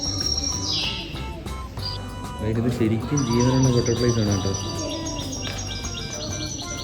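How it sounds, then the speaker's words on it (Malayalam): Birds call and chirp through a constant high twittering inside the Dubai Butterfly Garden, while a person speaks over the top for most of the stretch. "പിന്നെ കേൾക്കുന്നൊരു എന്തോ ഒരു കിളികൾ കരയുന്നൊരു സൗണ്ട് കേൾക്കുന്നത്"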